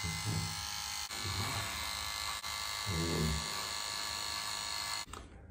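SOOCAS sonic electric shaver running close up, a steady bright buzzing drone with brief dips as it moves against the skin, a faint voice underneath, cutting off at the end.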